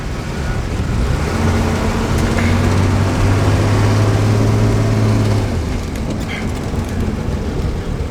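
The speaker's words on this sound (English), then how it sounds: "The transmission shifts." A neglected Dodge Dart Swinger idles with its transmission shifting, a loud steady engine drone with low humming tones that step in pitch partway through, then rough continuous rumble, close by with no talk.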